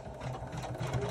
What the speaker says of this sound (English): now we're going to run the top stitching.